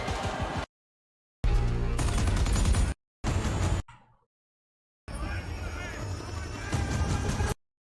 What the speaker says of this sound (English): You get your helicopter combat in there.